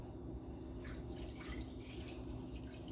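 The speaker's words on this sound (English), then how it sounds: "this is just simply pouring it off" Whey poured off goat milk curds through cheesecloth from a very full pan makes a steady, continuous splash and trickle of liquid, close and fairly even throughout, with no talk.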